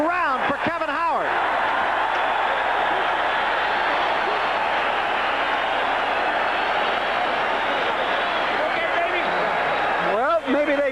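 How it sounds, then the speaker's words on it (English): A boxing arena crowd roars loudly and continuously at a Sugar Ray versus Kevin Howard fight, a dense, sustained wall of cheering, with a commentator's voice heard at the start and end. "This crowd is really alive"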